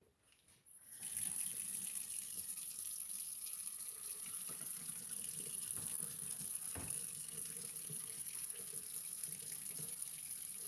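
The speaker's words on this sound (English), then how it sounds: "Okay, so we'll go over here, get some hot water going." Hot water gushes steadily from a tap into a sink, starting after a brief pause and holding a constant, close, hissing rush with a faint clunk partway through; no one speaks.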